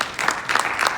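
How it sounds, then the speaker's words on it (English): A brief round of audience clapping for the co-moderator at a health and wellness panel discussion in a hospital venue, a short patter that pauses and then resumes for under a second. "And a round of applause to Dr."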